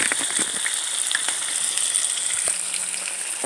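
Halibut fillet frying in a pan with bouillon seasoning, giving a steady, close hiss of sizzling oil with small crackles and pops running throughout, no voices.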